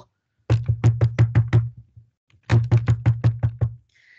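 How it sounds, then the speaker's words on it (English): Someone knocks at a door in two quick, close bursts of about six sharp raps each, separated by a short pause, with nothing else heard. "Mr. Cheeky was woken by a knock at his door."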